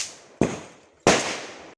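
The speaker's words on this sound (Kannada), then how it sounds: "ಇದು ಮಾಲೆ ಪಟಾಕಿ." Two sharp, loud bangs from Deepavali firecrackers, a string of crackers bursting close by, each blast ringing out and fading before the next.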